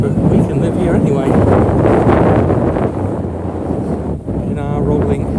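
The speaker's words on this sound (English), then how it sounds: "Oh, the wind, the wind, the wind." Strong wind buffets the microphone while walking across open fields, a loud continuous roaring gust that dips briefly near the end, with a voice speaking faintly underneath.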